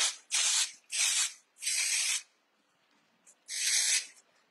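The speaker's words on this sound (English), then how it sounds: "I absolutely love our Lonza Dry Texture Spray" Short bursts of dry texture spray hissing close by onto hair during a haircut: three quick sprays in a row, a pause, then one more longer spray.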